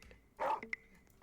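A virtual dog in a Roblox game gives a single short bark, fairly faint and brief, followed by small clicks in an otherwise quiet game backdrop.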